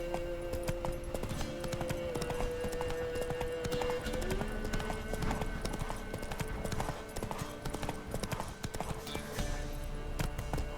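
Roach the horse gallops in The Witcher 3, a brisk, continuous clip-clop of hooves running the whole way through over a busy game soundscape with music tones.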